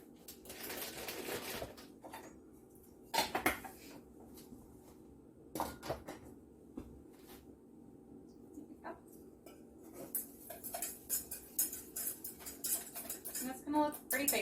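Metal whisk clattering against a bowl while sugar is beaten into egg yolks for eggnog, quiet and intermittent with scattered clinks and scrapes, growing busier and more rhythmic toward the end.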